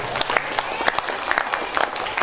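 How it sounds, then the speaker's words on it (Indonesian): Audience applause at a school tahfidz graduation and farewell ceremony for SD Muhammadiyah Kalirejo pupils, a steady wash of many hands clapping with sharper individual claps rising above it, fairly close and continuous throughout. "Kasih tepuk tangan dulu Bapak."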